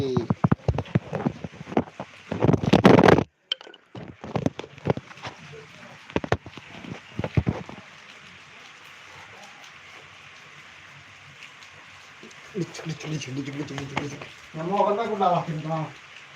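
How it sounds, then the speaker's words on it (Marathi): Rain falls steadily on a farm as a soft, continuous hiss heard at a distance, with people talking over it at the start and end. "बघा पाऊस कसा चालू आहे"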